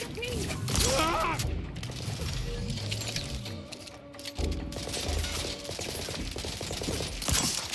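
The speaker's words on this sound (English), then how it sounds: "I do appreciate the level of accuracy these shotguns have." Shotgun blasts in The Outer Worlds 2 boom amid busy game combat noise, several heavy reports scattered through, with voices and mechanical clatter mixed in.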